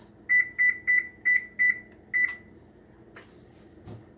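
A kitchen oven set to preheat to 375 degrees gives six short, clear electronic beeps in an even rhythm, followed by quieter clicks and a soft knock in a calm room.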